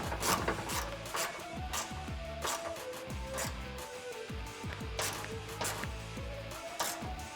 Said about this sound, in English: Now I'm going to tighten up our nuts underneath to keep it in place where we want it.